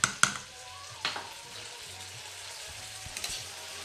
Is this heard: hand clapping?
no